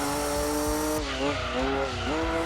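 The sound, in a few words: race car driving into corners in Gran Turismo 2 video game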